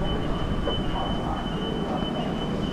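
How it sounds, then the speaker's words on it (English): Subway train arriving at a Manhattan station, a loud, steady rumbling roar with a thin high whine running through it, no talk. "I think our train is coming right now."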